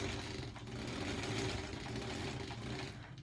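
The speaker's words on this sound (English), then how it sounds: "let's do a little back stitch there to kind of lock it in place." A sewing machine stitches appliqué on a quilt block with a short back stitch, running as a continuous, fairly quiet motorised hum and rattle close by, with no voices.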